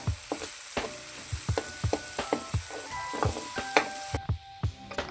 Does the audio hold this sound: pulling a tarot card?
no